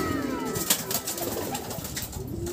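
Racing pigeons coo softly in a clean loft, low, rolling calls repeating over a faint background hum with no talking.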